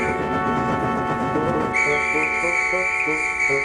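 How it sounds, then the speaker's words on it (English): A railway guard's shrill, sustained whistle blast from the guard's van sounds over a held musical drone, loud and unbroken to the end. "The guard, safe in his van, blew his whistle."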